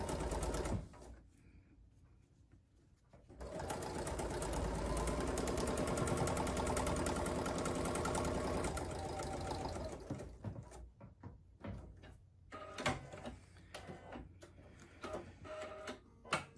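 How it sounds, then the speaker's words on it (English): A sewing machine stitches a quilted Poppins bag, its rapid mechanical whirr running steadily for several seconds mid-clip, then giving way to quieter handling clicks and short bursts. "And then you're going to sew 1/4 of an inch"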